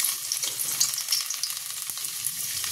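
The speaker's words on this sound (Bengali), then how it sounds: "তেলটা যেহেতু গরম চট করে রসুনটা লাল হয়ে যাবে দিতে দিতেই।" Garlic fries in hot oil in a wok, giving a close, steady crackling sizzle with fine spitting pops throughout, no voices over it.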